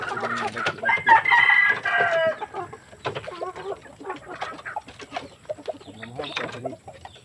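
Chickens cluck close by while a rooster crows loudly near the start, followed by scattered clucking and fowl chatter, with a faint voice or two.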